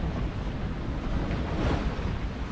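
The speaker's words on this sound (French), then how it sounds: "Et on est à la voile, mais avec la houle." Ocean swell washing around a sailing boat under sail during a family crossing, with a steady, moderately loud rush of water and wind buffeting the microphone. No voices are heard.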